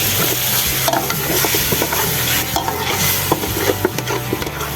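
Beef for white pares being sautéed in a pan, with a loud, dense sizzle running throughout and busy, irregular scraping and stirring up close.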